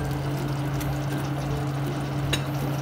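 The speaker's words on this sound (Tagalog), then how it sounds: "Pwede na po tayo maglagay ng tubig." Water pours steadily into a cooking pot of tinumis, a pork blood stew also called dinuguan, making a continuous close splashing rush over a low hum for the whole stretch.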